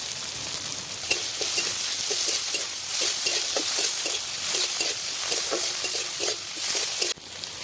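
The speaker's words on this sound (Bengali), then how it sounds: "জিরেগুলো মোটামুটি ভাজা হয়ে গেলে দিয়ে দেব কুচিয়ে রাখা পেঁয়াজগুলো" Chopped onions and whole cumin seeds fry in a hot pan for soybean and egg curry, a steady close sizzle with repeated scraping stir strokes throughout, no voices.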